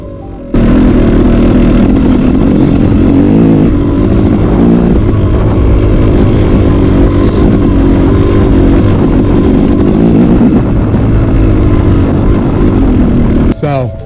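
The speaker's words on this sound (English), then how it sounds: "it's just simply easier to start the bike on the kickstand" Dirt bike on its kickstand at an RV park: the engine catches and runs loud and close, revving with a steady rough drone for over ten seconds before cutting off abruptly.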